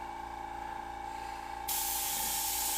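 A paint airbrush starts spraying partway through, a sudden steady bright hiss that continues over a constant background hum, close to the listener and with no talking.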